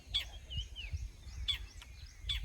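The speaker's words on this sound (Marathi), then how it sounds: "मी वर कसला पक्षी काय माहिती तुम्हाला ऐका येते का" A bird calls from overhead at a farm in the morning, giving three sharp, high chirping bursts spread across a couple of seconds over steady low rumbling background noise, with no talking.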